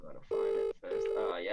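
A mobile phone rings with two steady electronic tones separated by a short pause, while someone talks over the ringing.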